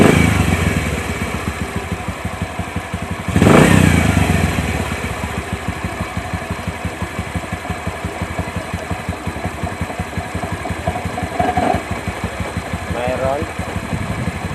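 A Bajaj CT 100 motorcycle with a worn 6003 stator bearing idles close by, a steady mechanical grinding and rattle running under the engine's throb. A brief louder revving burst comes early on.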